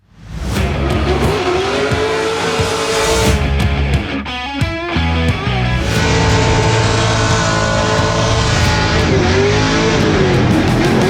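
A drift car on its first run screams through a loud, close pass, the engine revving hard with rapid shifts while tires squeal and skid continuously.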